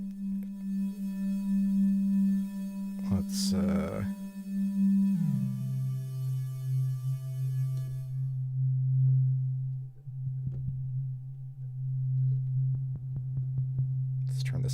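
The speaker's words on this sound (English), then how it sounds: "Beads is just in wavetable mode, producing us kind of a continuous tone when there's no audio input plugged in" A Beads synthesizer module in wavetable mode, with no audio input, holds a steady continuous tone with harmonic overtones that drops in pitch partway through, while a voice briefly speaks over it.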